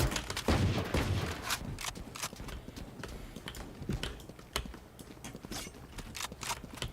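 Phantom rifle fire in a video game, a clattering run of quick, uneven shots that packs tight at first and then thins into scattered bursts, moderately loud, with no speech.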